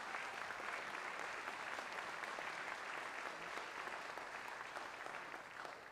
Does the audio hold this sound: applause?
yes